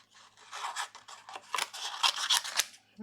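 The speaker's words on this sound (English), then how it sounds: "I'm gonna go ahead and cut this one out as well." Scissors snipping through handmade card stock, a run of quick, close crisp cuts with short pauses between strokes, getting louder toward the end, no voice.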